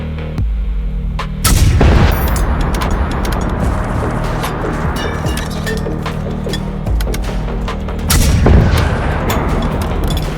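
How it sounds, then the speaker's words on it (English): Bazooka explosions in the video game Generation Zero: heavy booming blasts erupt twice amid constant gunfire crackle and rumbling, loud and close, like battlefield explosions. "An explosion, smoke, the scream of metal."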